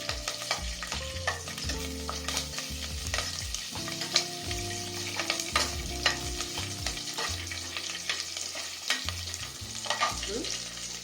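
Green chilies and cardamom fry in hot oil for chicken fry biryani, making a constant close sizzle with scraping stirs over tonal background music, without speech.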